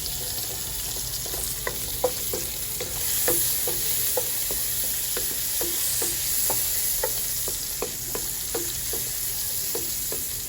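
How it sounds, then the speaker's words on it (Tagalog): Garlic sautés in butter for longganisa pasta, a steady close sizzle with a regular run of light spatula scrapes and taps against the pan. "and then saute the garlic"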